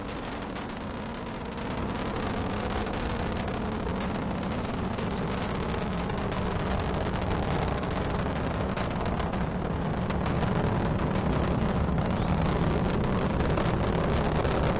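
Atlas V rocket booster engines during the NROL-33 launch ascent: a continuous, dense broadband roar, loud and unbroken, swelling slightly over the span.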